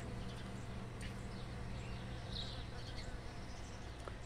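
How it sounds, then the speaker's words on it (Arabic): Bees buzzing around a male date palm while moving pollen, outdoors, a continuous soft droning hum with faint scattered higher chirps over low background noise. "النحل يقوم بنقل حبوب اللقاح كما نشاهد"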